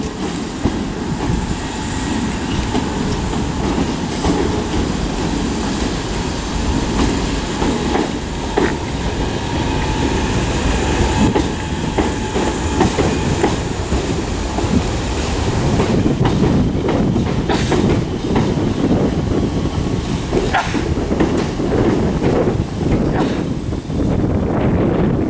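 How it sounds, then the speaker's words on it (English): A Southern electric train, unit 313206 on the terminating service from Brighton, arrives at Lewes station, loud and close, with continuous wheel rumble, rhythmic clickety-clack over rail joints and occasional squeals as it slows along the platform. "arriving now is the terminating Southern service from Brighton"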